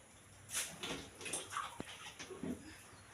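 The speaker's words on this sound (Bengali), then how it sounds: "আমি ডালটা কুকারে ঢেলে দিলাম।" Lentils and water poured into a pressure cooker make a soft splashing and rustling, with a few brief clinks and sloshes, fairly close and low in level.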